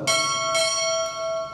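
Two sharp strokes on a ship's bell at a U.S. Navy chief petty officer promotion ceremony ring out nearby, roughly half a second apart, their sustained tones fading, with a faint third touch near the end.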